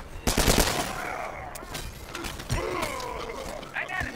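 Gunfire in the video game The Culling: a loud burst of shots at the start, followed by scattered, quieter impacts and mechanical clatter with a few vocal groans.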